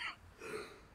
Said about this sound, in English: that cough is still sort of prevalent with me at the moment